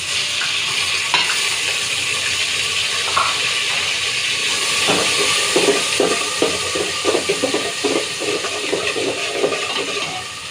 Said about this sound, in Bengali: আমার পেঁয়াজটা ব্রাউন কালার হয়ে গেছে এখন আমি একটা আদা রসুন দিয়ে দিচ্ছি